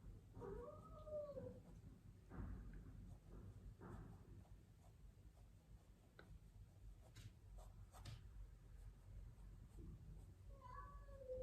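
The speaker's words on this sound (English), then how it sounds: "my cat is being very restless" A restless pet cat meows close by, once near the start and again at the end, amid faint scraping and tapping from a watercolor painting session.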